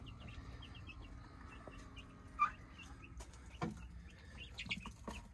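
Chickens cluck softly in a coop housing silkies, young chicks and ducks, with a few sharper calls and rustling bursts standing out over a steady low farmyard murmur.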